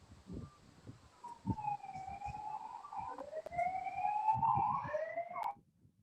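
An ambulance siren outside, its wailing tone rising and falling at a moderate distance, with faint background noise beneath and no talk.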